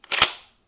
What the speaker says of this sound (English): engage your action bar release lever